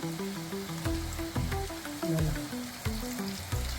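Jackfruit pieces frying in hot oil for a sweet, a close, steady sizzle with soft stirring clicks and bubbling pops throughout.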